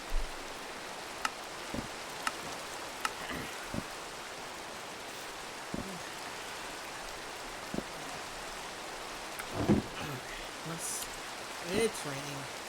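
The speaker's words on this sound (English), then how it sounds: "It's raining." Steady rain in the Minecraft video game, a soft, even hiss with scattered faint taps and clicks, fairly quiet and continuous without talk.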